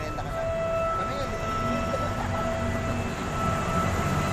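A train rumbles steadily nearby with a sustained mechanical drone and faint tonal whine running throughout, constant and fairly loud.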